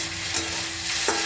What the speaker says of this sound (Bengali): তার জন্য আলু ভাজতে লাগছে ওর জন্য